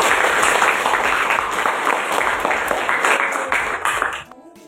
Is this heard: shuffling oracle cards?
no